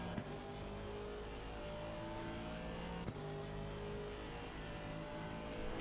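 A race car engine at Zolder in a racing video game holds a steady, loud drone with tonal whine throughout, without talking.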